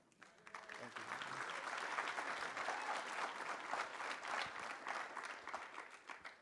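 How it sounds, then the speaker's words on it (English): Audience applause at a veterans' forum on storytelling, steady and fairly faint, continuing for several seconds with a dense texture of many hands clapping. "thank you for the applause"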